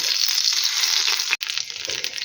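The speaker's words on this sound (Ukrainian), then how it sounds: "Бачу, що смажилися вже з однієї сторони. Буду перевертати." Kefir pancakes with fresh cherries frying in a pan, a steady close hiss of sizzling oil broken by a brief silent gap as they are flipped.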